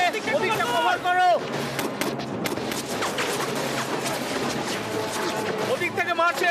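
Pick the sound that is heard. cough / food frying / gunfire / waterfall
gunfire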